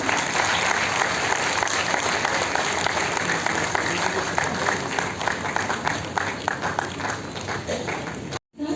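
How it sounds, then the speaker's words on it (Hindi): Sustained audience applause fills a hall at a literary award ceremony, steady dense clapping throughout with some crowd murmur, cutting off abruptly near the end. "जोरदार तालियां एक बार।"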